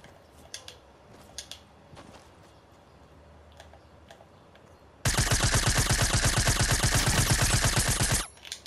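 Suppressed SMG in Fortnite firing a long rapid-fire burst of about three seconds, loud and close, after a stretch of quieter game sounds and scattered clicks.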